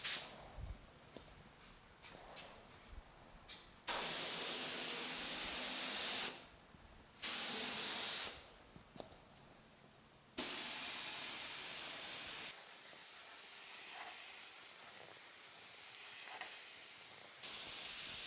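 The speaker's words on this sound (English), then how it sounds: "let me get the gun going, get this respirator on, get this thing sprayed" Spray gun with a thick-pattern 1.4 mm tip laying primer on the hood of a 1950 Chevy truck, loud steady hissing bursts that start and stop several times, with quieter gaps between passes and a long softer spray near the end.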